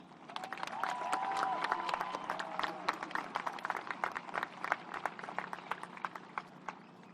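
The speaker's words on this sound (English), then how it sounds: "if you would give them a round of applause" Sustained applause from a graduation crowd, dense clapping that swells early and then thins into scattered claps.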